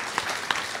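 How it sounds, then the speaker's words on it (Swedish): Audience applause at a panel discussion, a short burst of dense, steady clapping from a seated crowd, close and moderately loud throughout the brief moment. "En applåd, kanske."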